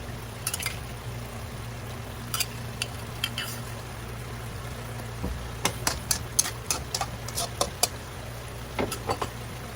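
Fish sizzles gently in a pan of sauce, a low steady bubbling broken by scattered crackles and pops, heard alone at moderate volume.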